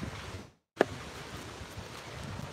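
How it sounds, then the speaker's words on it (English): Wind gusting outdoors, a steady broadband rush with a brief dropout near the start and a sharp bump of handling noise, no talking. "It's kind of windy"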